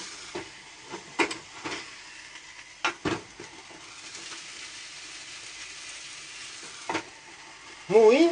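Yakitori skewers sizzle steadily in a hot sandwich maker, a continuous frying hiss broken by occasional pops and clicks, with a brief voice near the end.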